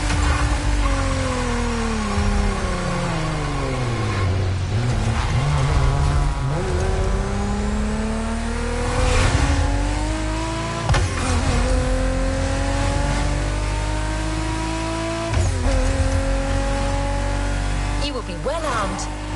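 Car drifting high among wind turbines in The Crew, the engine revving and falling in long sweeping pitch changes with bursts of tire noise, loud and close under a narrating voice.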